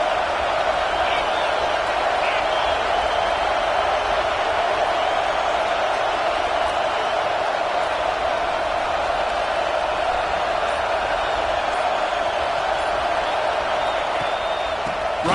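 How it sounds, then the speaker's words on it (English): A large college football stadium crowd roars continuously, a dense, distant wash of cheering and noise holding steady throughout. "This crowd knows when to bring it."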